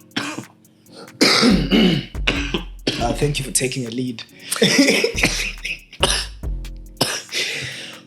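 Several rough throat-clearing coughs burst out in quick succession, close and loud, mixed with a person speaking between them.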